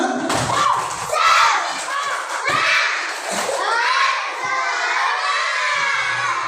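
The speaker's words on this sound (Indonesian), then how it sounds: "Tepuk semangat" Classroom of schoolchildren performing a rhythmic clapping chant, loud bursts of young voices shouting in unison with sharp claps and thuds, close and energetic, trailing into chatter.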